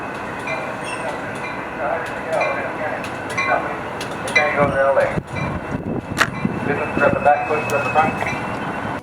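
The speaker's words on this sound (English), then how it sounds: "As Amtrak 593 was departing, Coaster 648 heading to San Diego arrived at the same time 593 was departing" Amtrak 593 pulling out while a Coaster commuter train bound for San Diego arrives, rumbling wheels and rail clatter with metallic clinks and squeals, people talking over the trains.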